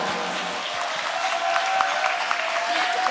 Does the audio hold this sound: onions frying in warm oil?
no